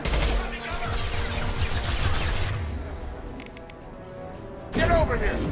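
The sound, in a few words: gunfire in the video game Mass Effect 2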